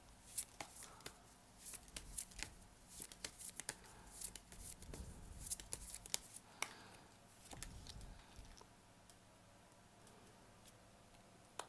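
Tarot cards are shuffled and drawn close up, producing quick irregular riffling clicks and flicks of card on card, with soft handling noises between, quiet and intimate.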